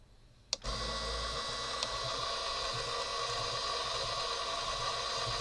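A new electric bobbin winder spins thread onto a sewing machine bobbin, starting with a click and then holding a steady, fairly quiet motor hum with a faint whir for several seconds.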